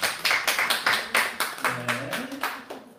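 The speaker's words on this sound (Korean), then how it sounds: "박수 할까요?" An audience claps hands in a quick, steady rhythm, about a dozen crisp bursts close by, with a few voices briefly speaking underneath near the end.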